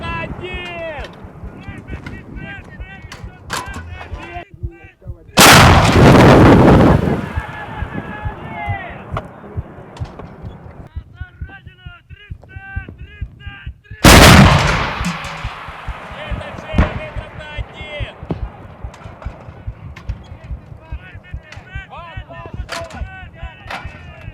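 Two loud, heavy booms of artillery firing toward Pervomaisk, several seconds apart, cut through a background of chatter and scattered clatter.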